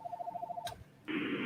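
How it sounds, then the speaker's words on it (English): An incoming call rings on a live sports talk show broadcast, a short run of quick electronic pulses with a sharp click and then a burst of line noise as the call connects. "We have a phone call."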